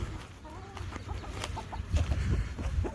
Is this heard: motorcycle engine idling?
no